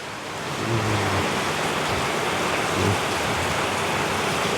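Steady rain falls outdoors with a dense, even hiss of drops on surfaces. It holds at a constant moderate level throughout with no talking.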